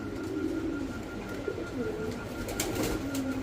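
Pigeons at a pigeon sale centre coo softly and continuously at close range, with several low, throaty calls overlapping over a steady background hum and no one speaking.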